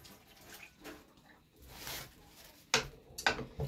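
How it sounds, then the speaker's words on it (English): Tap water runs while hands are washed at a home sink, a soft hiss of flowing water with a few louder splashes and patters toward the end, with no talking. "let me wash my hands because I've touched so much."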